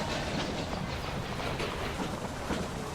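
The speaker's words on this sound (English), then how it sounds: "2 trains coming in at once." Trains pulling into stations in the railway strategy game Railway Empire, a steady dense rolling rumble with faint rhythmic clatter, continuous and fairly loud throughout, no talking.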